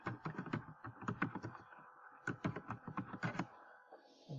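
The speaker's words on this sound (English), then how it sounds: "Let's type this in." Keys clacking on a computer keyboard during a Photoshop text entry, a close, steady run of quick strokes in bursts with a short pause midway, no talking.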